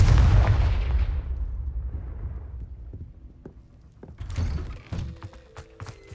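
The Bombarda and Confringo spells go off in Hogwarts Legacy while clearing a spider-infested cellar. A loud, booming blast opens and trails off into rumbling decay, then sharper cracks and impact thuds follow, with no talk.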